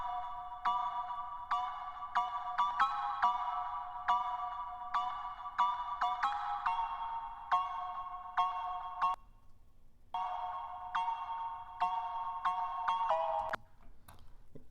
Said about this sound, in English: I got these major chords being triggered by one key,